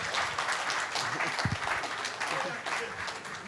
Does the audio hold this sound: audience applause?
yes